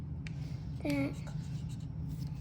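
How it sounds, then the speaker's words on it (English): A pen sketches a cartoon Pusheen cat's tail on paper, producing soft continuous scratchy strokes close up, with a brief voice cutting in midway. "So then we're gonna draw the tail."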